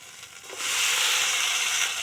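Fried potatoes and pointed gourd tipped into hot oily spice masala for a Bengali bata fish curry, bursting into a loud, steady sizzle after a quieter first half-second, hissing on without talk.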